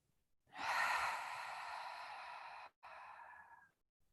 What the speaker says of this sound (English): We'll inhale through the nose and open the lips to exhale.